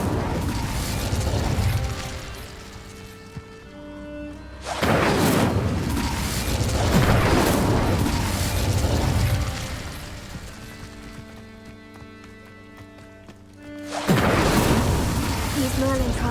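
Fire spells cast in Hogwarts Legacy burst out as two loud whooshing roars separated by a quieter stretch of tonal game music, each blast flaring suddenly and trailing off.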